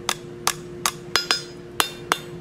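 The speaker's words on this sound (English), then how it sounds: "you want to hammer those back straight" A hammer strikes a forged metal leaf preform while straightening it, about eight sharp metallic blows at an uneven, unhurried rhythm, close and fairly loud.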